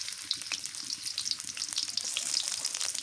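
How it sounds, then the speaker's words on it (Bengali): Onions sizzle in hot mustard oil in a pan, a loud, steady close-up crackle and hiss with no talking. "পেঁয়াজ দিয়ে দিলাম"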